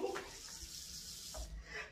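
Tap water starting to run into a sink at home, a soft broadband rush that swells in from quiet, faint and close with brief low thumps.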